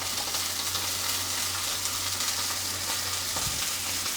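Spices frying in oil in a pan before fish is added, a steady dense hiss and crackle that stays even and close throughout, with no voices.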